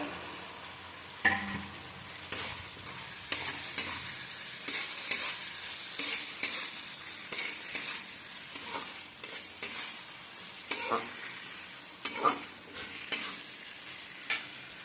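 Fried chicken being stir-fried into a cooked spice masala with sugar in a home Bengali kitchen, a constant sizzle broken by regular, rhythmic spatula scrapes and knocks against the pan, close and clear.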